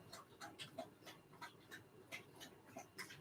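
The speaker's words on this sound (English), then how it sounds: "I have a living dog in my room." A dog pants in a room, quick rhythmic breaths repeating about three times a second, faint and close, with no talk over it.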